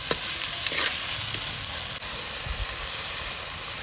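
Ginger, garlic and tomatoes sauté for a chicken curry, a steady close sizzle of frying with occasional stirring scrapes against the pan throughout.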